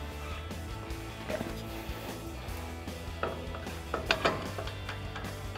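A ratchet threads a nut onto the upper control arm ball joint, with soft clicking ratchet strokes and a few sharper metallic clacks near the end, close and quiet over a low steady hum.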